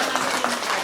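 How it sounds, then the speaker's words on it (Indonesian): A training group claps together, a short burst of dense, fairly close applause lasting under a second. "Tepuk tangan buat kita semua."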